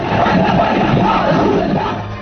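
A huge crowd at Khadim Hussain Rizvi's funeral on a Lahore highway, a dense continuous roar of many voices shouting and chanting at steady loudness before easing slightly at the end.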